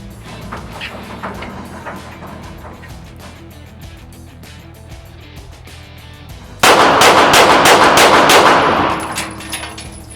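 Rapid gunfire at an indoor competitive shooting range: a string of sharp shots in the first half gives way to a dense, loud burst of firing near the end, with no talk.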